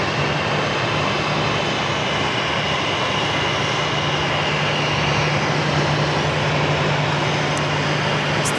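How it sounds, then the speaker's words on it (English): An Airbus A319 airliner taxis toward the gates at Phoenix airport, a steady, loud broadband engine roar with a constant hum underneath that holds evenly for the whole stretch. "A319 heading into the gates just below us here."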